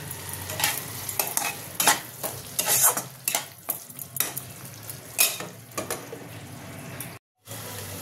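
Potatoes stir-fried with salt and spices in a pan, an ongoing sizzle broken by repeated loud scraping and clanking spatula strokes against the metal, close and busy, with no talking.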